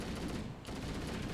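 Needler weapon firing in a Halo-style shooter game, a dense continuous burst of rapid shots and explosions that stays loud throughout with a brief dip near the middle.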